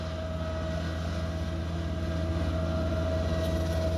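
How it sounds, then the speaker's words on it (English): A Titan DMWR135 54-inch drum mower runs steadily on a 10-acre property, giving a continuous droning engine rumble with a constant low hum and no breaks. "this is a 54-inch drum mower"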